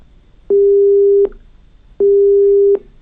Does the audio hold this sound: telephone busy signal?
yes